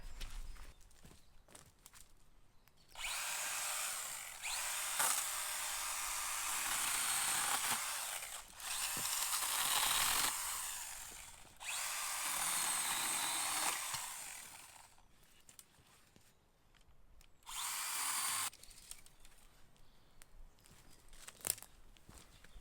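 A lightweight battery-powered saw cuts tree branches on an off-grid farm in Portugal, producing several loud, buzzing bursts of several seconds each, separated by short quiet gaps, with faint knocks and rustles in between.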